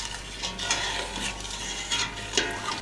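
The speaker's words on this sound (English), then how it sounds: "And then mix it together." A spoon stirs a sugar-and-salt mixture in a bowl, giving a few close scraping strokes against a steady hissing background.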